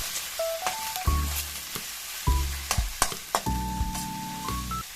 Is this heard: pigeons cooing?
no